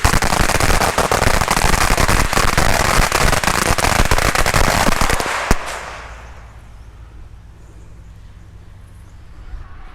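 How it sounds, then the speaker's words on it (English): A loud, dense crackling barrage of firecrackers set off at a Chinese-style graveside tribute bursting rapidly for several seconds, then stopping abruptly, leaving a quiet low hum. "This gentleman's about to pay his respects with firecrackers, as they do the Chinese way."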